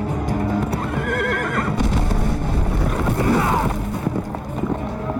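A horse whinnies in the Game of Thrones video game amid battle noise, a shrill neigh over a dense clatter of combat sounds and hoofbeats, with faint voices mixed in.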